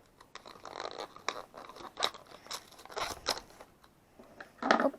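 A blade snips and scrapes through a plastic collectible egg package, a faint close series of irregular crunchy cuts and crinkles ending in a sharper rustle.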